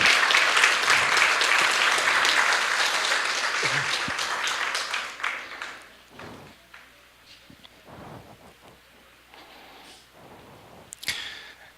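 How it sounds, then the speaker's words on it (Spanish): A church congregation applauds, dense loud clapping for several seconds that gradually thins and fades into scattered claps, shuffles and a few isolated sounds. "Denle un aplauso al Señor."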